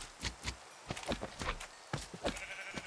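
Minecraft sheep bleat in short, wavering cries, mixed with soft footsteps. Several bursts come close together, close and moderately loud, with no talk.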